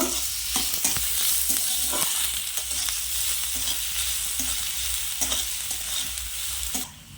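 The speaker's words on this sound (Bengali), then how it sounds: "পেঁয়াজটা আমি ভালোভাবে ভেজে নেব।" Chopped onion sizzles steadily in a hot pan, with scraping stirs and soft clicks of a utensil recurring throughout, close and continuous with no voices.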